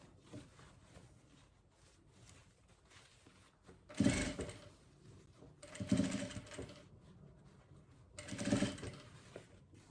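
Domestic sewing machine stitching ruffle trim, three short whirring bursts of rapid stitching spaced a couple of seconds apart over a quiet room background.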